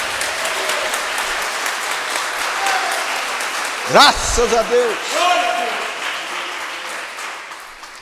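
Church congregation applauding, a steady broad wash of clapping throughout, with a voice speaking briefly in the middle and a short burst of sound near the midpoint.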